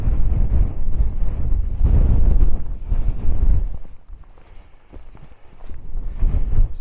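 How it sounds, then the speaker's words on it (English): Strong gusty wind buffeting the microphone on a rocky mountain summit in Aberdeenshire, heavy low roaring blasts that swell and drop, easing briefly mid-way before rising again. "It's a windy day today"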